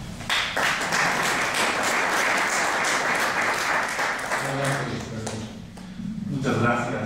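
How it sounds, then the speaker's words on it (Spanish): Audience applause greets the invited speaker at a political training school lecture, a dense wash of clapping lasting several seconds before thinning out as a voice begins. "lo recibiremos con un aplauso."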